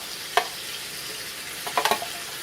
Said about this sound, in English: I'm going to put them here into the skillet. I'm just going to fry them a little bit